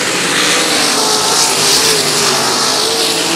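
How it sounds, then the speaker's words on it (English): Sprint cars race down the back straightaway at Valley Speedway, a loud, dense roar of several engines at full throttle, their pitch sweeping slightly as the pack passes. "Some terrific sprint car racing."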